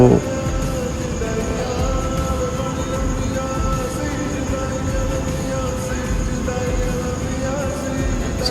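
A metro train in Malaysia slows to a stop and its doors open, a steady low rumble and hum with a faint tonal whine, close and continuous, with a brief clunk at the start.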